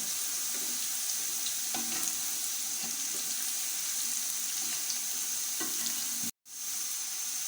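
Tomatoes and whole garam masala spices frying in a pot for chana pulao, a steady close sizzle with faint stirring scrapes, briefly cut off near the end before resuming.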